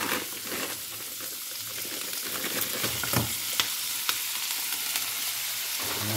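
Frozen wrap filling sizzles and crackles steadily in a hot pan, a continuous close frying hiss with occasional sharper pops and faint stirring.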